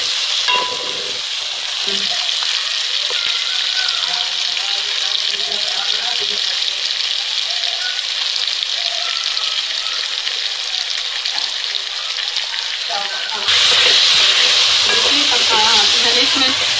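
Carrots and peas sizzle in a pan with onion, tomato and ginger-garlic paste for a mixed vegetable dish, a steady close frying hiss with occasional stirring, growing louder near the end.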